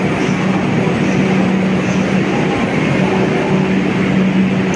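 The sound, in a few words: metro train at Dum Dum metro station, Kolkata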